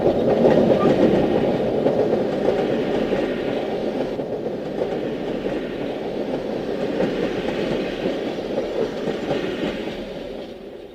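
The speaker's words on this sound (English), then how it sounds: "This is the Fort Pitt, train number 53. Only 2 passenger cars remained on this train." Pennsylvania Railroad passenger train number 53, the Fort Pitt, with only two passenger cars, rolling past with a continuous loud rumble and rhythmic clickety-clack of wheels over rail joints, slowly easing off toward the end.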